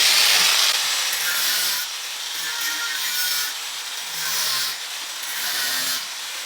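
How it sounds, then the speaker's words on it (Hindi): A grinder cuts off a protruding nail, giving a steady, bright grinding rasp that swells and eases over several seconds, loud and close with no talking. "ये जो कील निकल रही है इसको कटिंग करने के लिए इस तरीके के ग्राइंडर से हम इसको कटिंग करेंगे"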